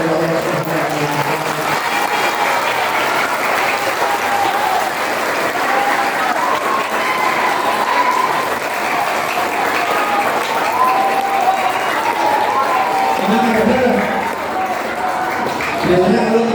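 A school audience at a Maulid Nabi celebration in an Indonesian junior high hall breaks into sustained, dense applause that rolls on steadily, with voices calling faintly beneath the clapping.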